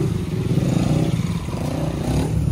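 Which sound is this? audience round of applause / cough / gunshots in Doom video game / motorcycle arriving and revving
motorcycle arriving and revving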